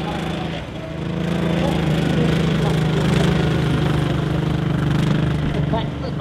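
Engine of a CVR(T) Scorpion FV101 armoured vehicle at Tankfest, a loud steady mechanical drone that holds level throughout, with someone talking over it.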